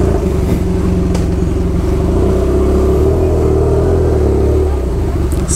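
A BMW F800 motorcycle with a straight-through exhaust pipe starts up and revs, a loud, close, steady rumbling engine note that runs throughout with rising throttle swells.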